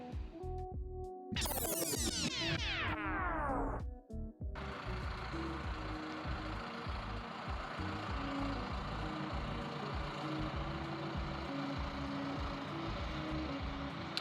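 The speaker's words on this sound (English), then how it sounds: "I don't know if you can hear the background noise, but there's a truck passing" A truck passes outside a rural village cosmetic studio and office, a steady loud rumble of engine and road noise that fills the whole clip after a brief burst of other sound at the start.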